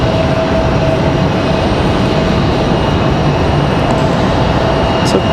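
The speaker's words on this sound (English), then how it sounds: "So Delta taxiing out here, that CRJ" Broadband roar of a Delta CRJ regional jet taxiing at Raleigh-Durham airport, a steady loud rumble with engine whine that holds constant throughout, no voices over it.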